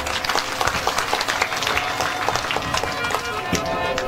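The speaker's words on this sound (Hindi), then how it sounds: "एक बार ऐसे श्रोताओं के लिए जोरदार ताली बजाएं।" A crowded audience at a Ram Katha religious storytelling gathering breaks into loud, sustained applause, dense rapid clapping that carries evenly throughout with a few voices mixed in.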